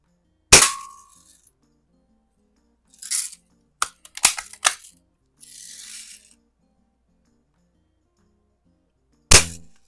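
A 1930s Daisy King BB gun fires at a tin can. A few sharp, close snaps and metallic cracks are spaced irregularly across a quiet background, with a short cluster of hits in the middle and one more near the end.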